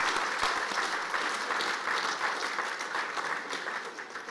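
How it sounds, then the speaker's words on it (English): An audience at the 24th annual Peter J. Cutino water polo awards ceremony claps steadily, a full, even wash of applause from a moderately distant crowd. "So just a round of applause for that."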